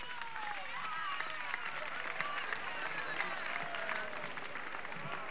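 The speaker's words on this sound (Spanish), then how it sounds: "Fabiola, por favor, un aplauso para Fabiola." A crowd at an outdoor education march and rally in Venezuela gives steady, dense applause that holds at an even level for several seconds, with no voices over it.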